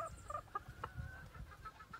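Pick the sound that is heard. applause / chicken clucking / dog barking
chicken clucking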